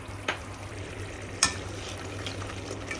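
Chana dal masala being stirred in an electric cooking pot, a soft steady sizzle with two brief scraping clinks of the spoon, alone and close.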